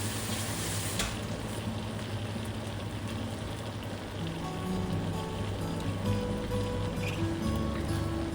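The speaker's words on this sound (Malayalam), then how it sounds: "ഒരു മീഡിയം സൈസ് സവാള ചേർത്ത് കൊടുക്കുക" Sliced medium onion frying in oil in a pan, a steady close sizzle with a soft hiss running throughout, a brief louder crackle near the start, and faint tonal hum underneath.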